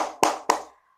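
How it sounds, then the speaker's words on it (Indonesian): Two sharp, close hand claps from a class, evenly spaced about a quarter second apart, then the sound fades to silence. "jika Ibu bilang selamat sore, maka kalian harus tepuk tangan sebanyak 3 kali"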